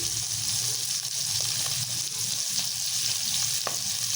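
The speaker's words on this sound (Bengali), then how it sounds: "এক পিট ভাজা হয়েছে এক পিট উল্টে দিচ্ছি" Pieces of hilsa fish fry in hot oil in a pan, a loud, constant crackling sizzle with a few faint scrapes as the fish is turned, and no talking.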